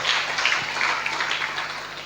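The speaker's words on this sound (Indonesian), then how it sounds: "Kita berikan tepuk tangan buat Tuhan." A church congregation applauds together, a broad, steady wash of clapping that holds at even loudness for a couple of seconds before easing off slightly.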